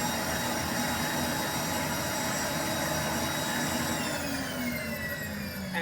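A Rainbow vacuum cleaner runs on its full vacuum setting, a loud steady whine and roar that shifts slightly in pitch near the end.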